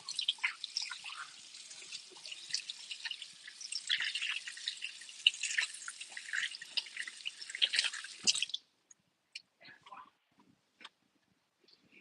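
Hands are washed under a running kitchen tap, a steady hiss of flowing water with splashing for about eight seconds before it shuts off, leaving a few faint drips and small handling sounds.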